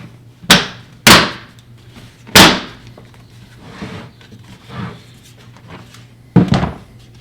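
Plastic panels of an outdoor storage box are pushed down into place, producing several sharp, close hollow thunks and knocks at irregular intervals, with softer bumps and handling noise between them.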